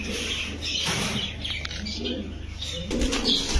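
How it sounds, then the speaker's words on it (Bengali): Pigeons at a market flap their wings in short bursts and coo softly nearby, with brief chirps and a busy background of people. "খুবই সুন্দর কবুতরগুলো দেখেন"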